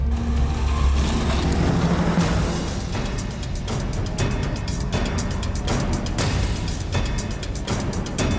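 A car is driven off the road into roadside bushes, its engine a steady, loud rumble throughout with rustling and scraping bursts as it pushes through the brush.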